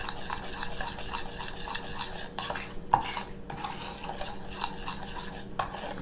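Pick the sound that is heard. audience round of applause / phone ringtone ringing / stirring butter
stirring butter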